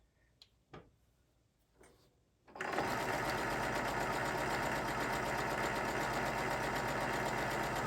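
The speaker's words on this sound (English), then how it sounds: "It's just a straight stitch here" After a few quiet clicks and handling sounds, a sewing machine starts and runs a straight stitch at a fast, steady mechanical rhythm, loud and close.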